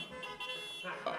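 Car horns honk from a crowd of vehicles on a February morning, sustained tooting layered over one another at moderate distance, with a louder blast near the end and voices mixed in.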